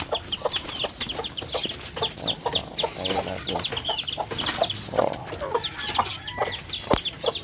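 Several chickens clucking repeatedly nearby, overlapping short calls in a busy farmyard mix, with a few sharper squawks.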